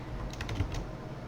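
Light keyboard typing, a few quick clicks of keys close by against a faint steady background hiss.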